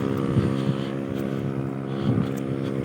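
Motor vehicles speed past on a road near the Estancia, Iloilo feeder port. A steady, rumbling engine drone with some wind noise swells briefly twice as vehicles pass close by.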